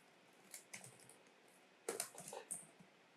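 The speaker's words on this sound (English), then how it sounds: "I just type in another URL" Clicky keystrokes on a computer keyboard as a web address is typed, coming in two short quiet bursts of taps separated by a pause, with no talking.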